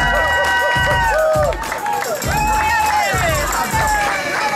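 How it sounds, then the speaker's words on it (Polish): A crowd cheers and applauds at the awards ceremony of a night half marathon in Piotrków, with rising and falling shouts and whistles over steady clapping, loud and close throughout. "Brawa, kochani, brawa."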